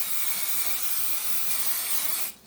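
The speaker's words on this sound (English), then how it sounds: "lightly spread with some butter flavored cooking spray." Butter-flavored cooking spray misted onto a pan before cooking green beans: a continuous bright aerosol hiss lasting about two seconds, close and fairly loud, cutting off abruptly, with no voices.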